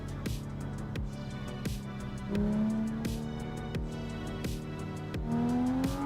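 A real car's engine revving hard toward redline, with repeated rising whines and gear-change dips across several cycles, loud and close-up in the cabin, with no talk.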